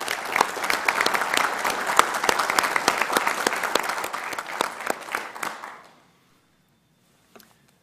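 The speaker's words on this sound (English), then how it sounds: "give them a round of applause" An audience at a transit board meeting gives sustained, dense applause for the marketing team for about six seconds, then the clapping stops abruptly, leaving near silence broken by one faint knock.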